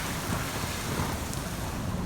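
A Range Rover 4x4 wading through deep flood water during a storm in the Nevada desert, heard as a steady, loud rush and slosh of churning water mixed with wind buffeting, continuous throughout with no talking.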